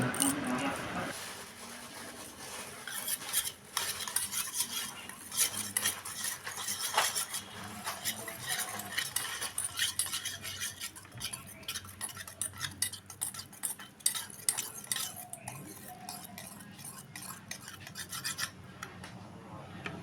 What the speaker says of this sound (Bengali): এবারে বাটিতে টক দইটা ফেটিয়ে নেব